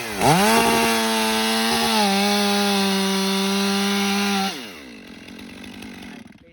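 A chainsaw cutting into a standing tree with a lot of lean, revving up sharply then holding a steady loud high whine through the wood before dropping off abruptly near the end.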